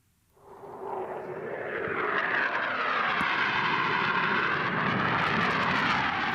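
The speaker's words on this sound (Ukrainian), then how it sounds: "Це показовий виліт двох винищувачів F-16 у новому навчальному центрі, що в Румунії" Two F-16 fighter jets on a demonstration flight at a training centre in Romania rumble in, their loud, broad roar building within a second and holding steady and close to the end.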